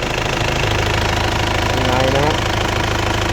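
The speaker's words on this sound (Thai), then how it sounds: "ฟังเสียงเครื่องนะครับ" An engine idles with a steady, rough rumble, close and continuous, while a person talks over it.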